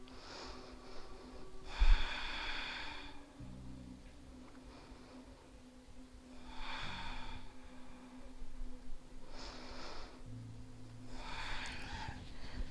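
Slow, deep breaths drawn in and let out during a seated yoga hip stretch with a strap, several soft airy inhales and exhales rising and falling at close range over a low steady hum, with no talking.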